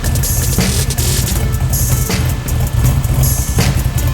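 A car engine idles steadily during a post-repair check, a loud, continuous rumble heard close up without speech.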